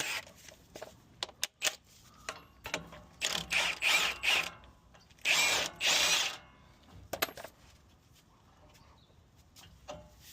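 A ratchet with a 24 mm socket works on the front steering of a 2013 Ford F-250 6.7 Powerstroke truck, giving close, bursty clicking runs separated by brief pauses and scattered metallic knocks.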